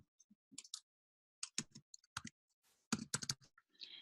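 Short bursts of crisp, close key clicks on a computer keyboard as a zip code is typed, separated by brief pauses in an otherwise quiet room.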